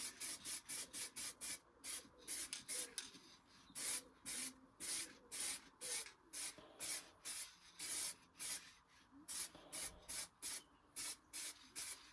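Aerosol spray paint hisses on and off in regular short bursts as a car airbox from a Vauxhall Nova receives a light first coat, each spray lasting about half a second with brief gaps, close and steady.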